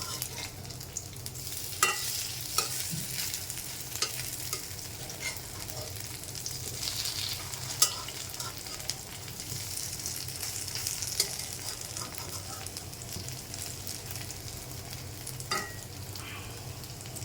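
Flower fritters made from pumpkin and water lily blossoms frying in hot oil, a steady dense sizzle throughout with occasional sharp ticks and scrapes as they are turned over.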